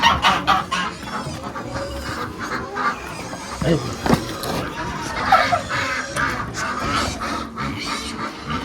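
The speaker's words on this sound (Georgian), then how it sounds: "ოჰა, ქათმები." Chickens cluck repeatedly and close by in a village in the Gori district, several hens calling over one another in an irregular, busy chorus with faint background noise.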